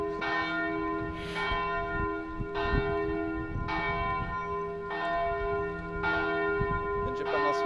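A church bell tolls in a steady slow rhythm, one rich ringing stroke roughly every one and a half seconds with its hum sustained between strikes, loud and close with no speech.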